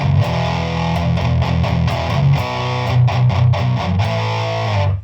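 Electric guitar driven through an HM2 distortion pedal into a Peavey Supreme amp, a loud, thick, saturated tone played as sustained chords with rhythmic changes and no talking.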